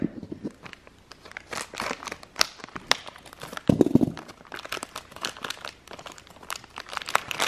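Toy packaging for a Hexbug Nano is cut open with scissors, giving a close run of irregular crinkling, snipping and tearing bursts of plastic and card, with a louder crunch midway and no speech.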